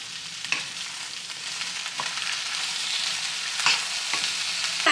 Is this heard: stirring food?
yes